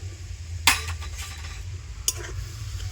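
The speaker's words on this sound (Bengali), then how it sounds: "তো সব কিছু কিন্তু একটু ভালো করে মিশিয়ে নেব।" A spoon stirring milk mixed with grated coconut and powdered sugar for sandesh in a pot, with two sharp metallic clinks against the vessel over a low steady background hum.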